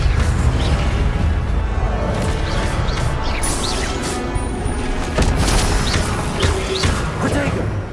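The Incendio fire spell cast in Hogwarts Legacy, a loud whooshing, booming burst over dense continuous combat noise, with repeated impacts and crashes running through the whole stretch.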